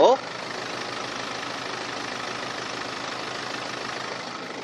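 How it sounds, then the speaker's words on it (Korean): A 2014 BMW sedan engine idles with a smooth, steady hum that holds evenly for several seconds after a brief voice at the very start. "바로 엔진 소리 한번 들려드릴게요."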